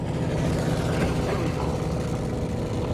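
A ZR1 Corvette and a Viper run side by side at an airstrip drag event in Indy, giving a dense, steady engine roar that holds loud and continuous for the whole stretch with no break.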